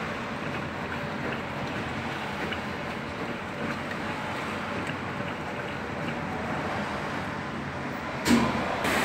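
Speed Queen washing machine model JFNJXASP303EW6 spinning in a UK launderette, a steady broadband whooshing drone that holds constant throughout, with a brief louder knock near the end.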